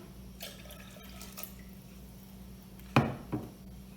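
Water poured into a bowl with eggs and oil as the liquid base for chocolate cake batter, heard as one short splashing pour near the end, followed by a smaller splash, over a low steady hum.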